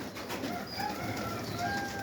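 Pigeons kept in a loft coo softly, a few low murmuring calls rising over a steady background hum, with no voices in between.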